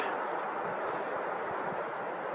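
A creek in New Zealand's high country flows as a steady, close rushing hiss of water with a low churning undertone. It sounds continuous and even throughout, with no voices.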